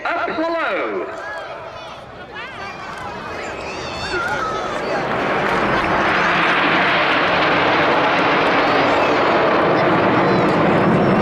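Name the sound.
Red Arrows jet aircraft flying past at airshow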